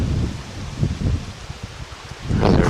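Gusty wind buffets the porch of St Peter's church in Ousden, Suffolk, a steady low rumbling roar with rustling that dips midway and then swells louder at the end; no one speaks.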